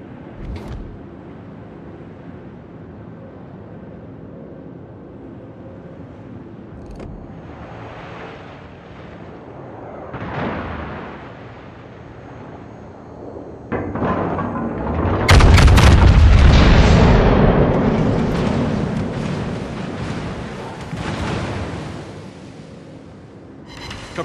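Warship guns fire in World of Warships, with scattered booms over wind and sea noise, then a loud, sustained roar of heavy gunfire and blasts in the latter half that slowly fades.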